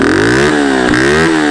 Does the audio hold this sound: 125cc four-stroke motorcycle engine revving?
yes